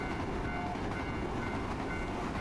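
A train rumbles steadily in a video game, a dense continuous roar of rolling wagons with faint rhythmic clatter, close and unbroken throughout.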